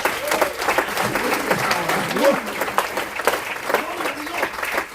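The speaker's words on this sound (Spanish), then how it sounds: "Dele fuerte ese aplauso" Church congregation applause during a sermon, a sustained mass of clapping with a few voices calling out over it, fading slightly near the end.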